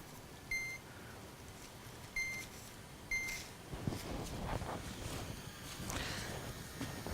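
A pressure cooker gives three short, clear electronic beeps as its timer is set, followed by soft clatter and handling noise close by in a quiet kitchen.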